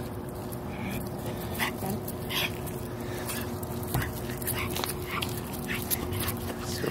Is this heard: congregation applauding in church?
no